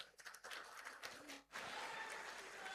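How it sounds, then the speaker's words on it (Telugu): Audience clapping at an outdoor public meeting with swamis seated on stage, a dense, fairly quiet patter that dips briefly mid-way and then swells back into steady applause. "గట్టిగా చప్పట్లు కొట్టండి ఒకసారి"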